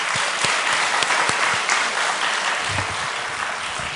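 A congregation at a church inauguration ceremony in Pohang bursts into vigorous, sustained applause, with dense, full clapping that stays loud throughout.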